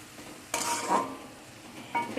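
A spoon stirs a thick amla pickle mixture with turmeric in a pan over a low flame, making a few short, scraping pushes with faint sizzling between them, close and fairly quiet.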